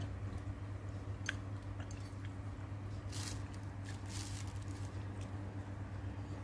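Someone chews soft pork meatballs from a pork-leg tom yum soup with rice vermicelli noodles. The close, wet chewing and squishing sit over a steady low hum, with no talking.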